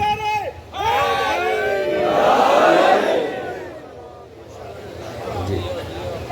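A large crowd at a religious gathering shouts slogans in unison, swelling into a loud, massed roar after a lead voice calls out, then subsiding and rising again.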